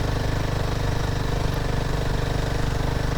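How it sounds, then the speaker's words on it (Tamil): Royal Enfield Himalayan 450 motorcycle engine running steadily on a sloped road near Illikal, a continuous close, loud low rumble with even pulsing throughout and no pauses. "ஆனால் வண்டி சவுண்ட் ஒரு மாதிரி கேட்குதுன்னு பார்த்தேன்."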